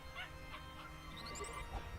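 A dog companion in the video game Finding Paradise gives a few short, faint yips and barks over a soft bed of tonal game music.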